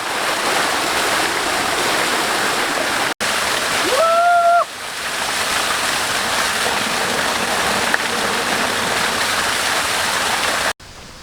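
Cold mountain water pours down in a wadi in the UAE, a loud, steady rushing splash close by, with two abrupt cuts and a short whistle-like tone partway through.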